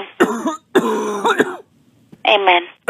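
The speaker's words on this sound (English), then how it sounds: "My grandson was coughing." A person coughs and clears their throat in short close bursts, three loud fits separated by brief pauses.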